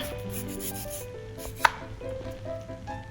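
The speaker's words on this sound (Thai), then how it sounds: "พอปอกเสร็จก็หั่นเป็นชิ้น ๆ นะคะ" A knife cuts peeled mango into pieces, a close, sharp chop landing once midway, with faint light rubbing and board contact around it and no talking.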